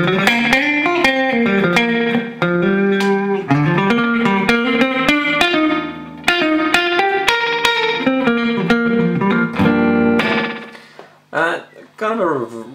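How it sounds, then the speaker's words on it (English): A Strymon Timeline digital delay pedal set for a short slapback, its quick single repeats trailing a clean electric guitar playing melodic lines and chords, loud and steady with a brief strummed swell near the end. "So you can get a real cool slap back there if you adjust the repeats."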